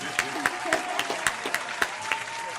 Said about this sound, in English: give that man a clap